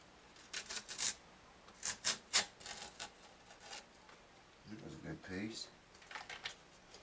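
Tape peeled off a Gibson J40 guitar after a crack glue-up, a series of faint crackly rips and rubs close by, with some quiet speech in between.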